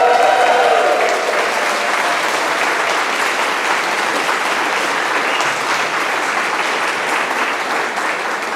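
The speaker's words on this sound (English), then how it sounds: "So sit on your hands and let us clap you." Performers at a love-songs concert applaud their audience, steady dense clapping from a group filling the room, loud and continuous for over eight seconds after a brief trailing vocal note at the start.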